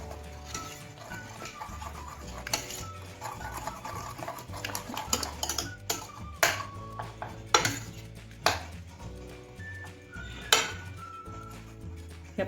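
Cooked lentils (dal) being mashed in a metal pot, irregular clinks and scraping knocks of the utensil against the pot, fairly faint, without talk.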